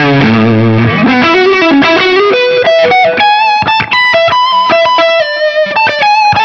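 Electric guitar played through a DiMarzio neck pickup with distortion and chorus-style effects, a loud sustained lead line of bent and flowing notes after an opening low chord, heard alone.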